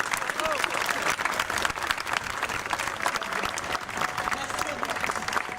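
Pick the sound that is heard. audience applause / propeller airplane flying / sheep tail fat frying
audience applause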